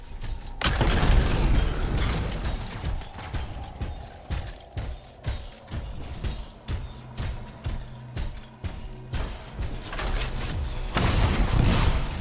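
Explosions and heavy booms from the video game Anthem thud repeatedly amid mechanical clanks and game music, loud bursts at the start and end with quieter rhythmic impacts between.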